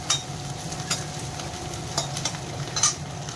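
Onion frying in a pan makes a constant soft sizzle, and a spoon clacks and stirs through it several times up close, with no one speaking.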